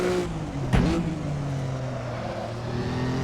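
Historic 1954 Formula One cars brake hard at the Nürburgring in Assetto Corsa; a close engine note drops sharply in pitch, with a brief rasping burst, then settles into a steady drone.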